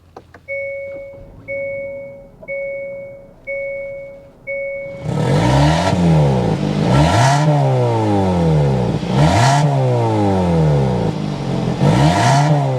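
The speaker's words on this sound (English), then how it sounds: "Let's go inside and start it up so you can hear that exhaust note." A 2023 Hyundai Tucson N-Line with dual exhaust gives several door-open chimes, then its engine fires and revs up and down in repeated loud swells before settling into a steady idle, heard close with no talk.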